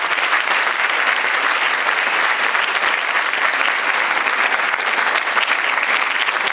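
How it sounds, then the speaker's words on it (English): A school audience gives a steady, full round of applause for guests at an MLK Day event, with dense, even clapping that continues loudly throughout and no voices over it. "Can we give them a round of applause?"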